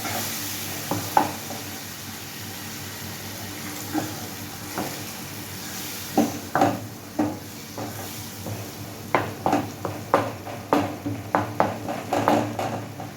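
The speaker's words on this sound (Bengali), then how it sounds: "এই মশলাটা দিয়েও আমি ভালোভাবে কষিয়ে নেব।" Spice masala for a spicy egg curry is stirred and fried in a pan: a sizzling bed under scraping stirs that start sparse and grow into a quick, steady rhythm, close by with no talking.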